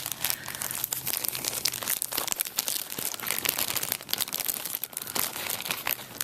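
A plastic bag holding plastic model kit sprues crinkles up close, a busy stream of sharp crackles and rustles that continues without pause, no voices.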